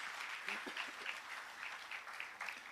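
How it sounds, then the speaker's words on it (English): Warm applause greets a state health commissioner at a health sector town hall meeting, steady clapping heard fairly faint and distant, with a few voices beneath. "Please welcome him with a warm applause"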